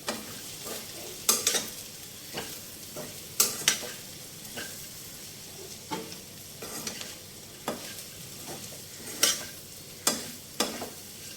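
A broad bean and prawn curry sizzles in a pan as salt and chili are added, with a spoon scraping and stirring in sharp repeated strokes over a constant frying hiss.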